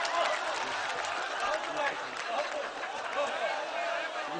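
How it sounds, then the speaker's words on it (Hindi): An audience claps for a comedian at a live comedy show, a steady, dense wash of applause that stays even for several seconds with voices mixed in. "ये आपने रईस भाई के लिए तालियां बजाई"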